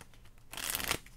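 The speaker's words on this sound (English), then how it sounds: "One more shuffle." A deck of tarot cards gets a quick riffle shuffle, a short burst of crisp flapping and rustling close by, with no talk over it.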